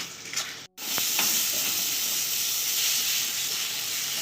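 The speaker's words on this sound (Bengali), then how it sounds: "সামান্য একটু জল দেবো জল দিয়ে সব মশলা খুব ভালো করে কষিয়ে নেব" Spices sizzle and steam in a pan right after a splash of water goes in while cooking bhetki fish bone chorchori, a steady close hiss following a brief gap.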